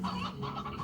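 Roosters in the video game Slime Rancher cluck in a steady, busy chorus, several birds overlapping in repeated bursts at close range with no talk.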